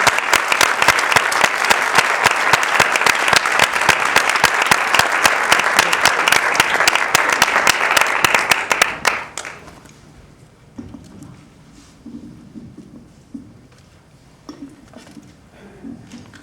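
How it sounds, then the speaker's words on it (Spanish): Enthusiastic applause for Manuela Martínez, a candidate from Valdemoro, at a political gathering, with dense loud clapping for about nine seconds before it stops abruptly, leaving quiet room noise and faint murmurs. "¡Vámonos, un aplauso, Manuela!"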